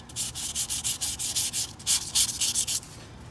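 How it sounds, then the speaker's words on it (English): Fine 220-grit sandpaper rubs over a filled wall patch in a quick, steady back-and-forth rhythm of light strokes, close and clear with no talking. "you just grab some fine sandpaper. This is 220. You're not putting a lot of pressure. Let the sandpaper do the work."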